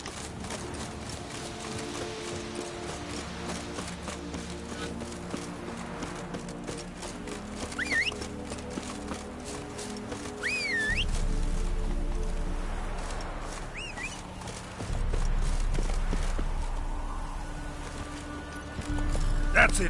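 Hooves of the horse Roach clip-clop steadily in The Witcher 3, set against a low game ambience with occasional bird calls and a swelling rumble; a voice speaks over part of it.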